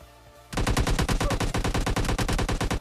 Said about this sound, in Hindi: उतने में इसका और एक टीममेट कवर फायर देने की ट्राई करता